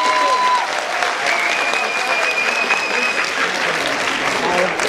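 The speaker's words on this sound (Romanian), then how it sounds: "s-o primim cu un rând de aplauze" A school freshman ball crowd applauds to welcome a singer to the stage, dense clapping at full volume across the whole stretch, with faint cheering and brief whistles riding on top.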